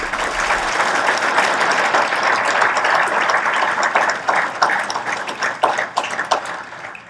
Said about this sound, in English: Please give a warm round of applause for Cliff Thompson.